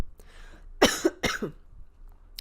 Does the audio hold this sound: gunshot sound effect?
no